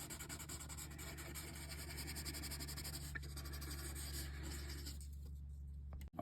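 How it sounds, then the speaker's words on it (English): A colored pencil outlining a drawing on paper produces a steady, faint scratching and rubbing, close by and unbroken for several seconds before stopping abruptly near the end, with no talking. "now we're going to outline everything with our one color pencil"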